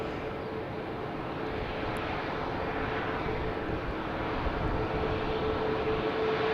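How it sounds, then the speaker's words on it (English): JetBlue Airbus A220 airliner taking off at Boston Logan, a steady broadband jet engine roar holding at a constant level throughout, with a faint steady tone running beneath it. "JetBlue heading to Richmond on an Airbus"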